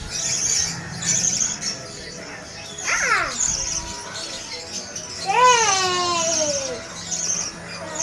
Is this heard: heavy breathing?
no